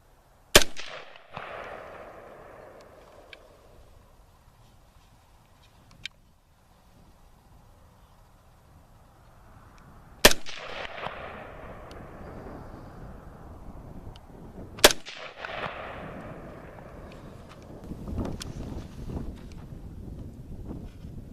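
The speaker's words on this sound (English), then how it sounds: "let's give it some shots and see how it goes" A Palmetto AR-15 rifle being sighted in outdoors: three loud, sharp gunshots spaced several seconds apart, each trailing off in a long echo, with wind noise between shots.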